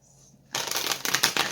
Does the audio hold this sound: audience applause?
no